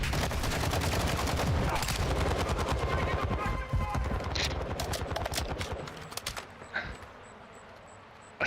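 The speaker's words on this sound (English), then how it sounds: "whoever's shooting at me" Gunfire in a video game, with rapid bursts of shots crackling loudly over a busy soundscape, then thinning into sparser, quieter pops toward the end, with a voice speaking beneath.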